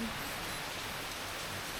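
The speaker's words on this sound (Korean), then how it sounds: "비가 와요" Steady rain pours down in Indonesia on a wet day before a boat trip to Komodo Island, a dense, even hiss that fills the short stretch with no other sound.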